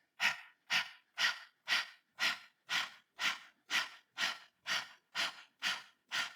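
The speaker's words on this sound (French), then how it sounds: "la respiration de chien haletant, c'est tirer la langue et faire une respiration de feu" Rapid, forceful nasal exhales of kundalini breath of fire, panting like a dog, about thirteen evenly spaced sharp puffs, close and alone.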